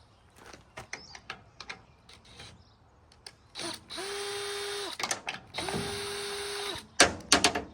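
A ratchet with a 9/16 socket removes a spark plug. There are quick clicks and taps first, then two sustained bursts of rapid ratcheting close up, with a few sharp knocks at the end.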